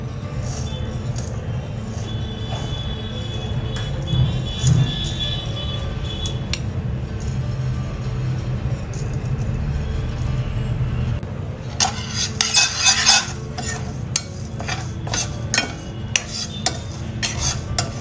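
Urad dal and chana dal roasting together in a hot pan, a steady low rustle and scrape of lentils being stirred, with clinking and rattling utensil knocks growing busier toward the end.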